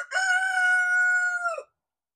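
A rooster crows once, close and clear, a single drawn-out call of about one and a half seconds followed by silence.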